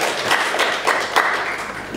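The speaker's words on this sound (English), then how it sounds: "Round of applause for the boys." A church congregation applauds during a Sunday service, loud close clapping from many hands with a few sharper individual claps standing out, continuing steadily for about two seconds.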